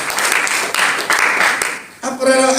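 A congregation at a prayer and fasting gathering claps in applause, loud, dense clapping in the foreground that breaks off near the end as music and voices take over.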